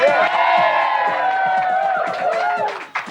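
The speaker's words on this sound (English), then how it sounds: "Round of applause for Billy, everybody." A studio audience on a 1998 Easter edition of a British breakfast TV show cheers and whoops loudly, with harmonic shouts and voices over busy crowd noise, ending abruptly.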